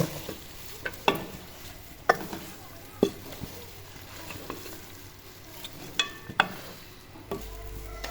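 A spoon stirs chicken karahi with garam masala powder in a pan, scraping in regular strokes roughly once a second over a soft, continuous sizzle.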